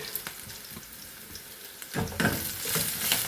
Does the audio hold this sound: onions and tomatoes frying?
yes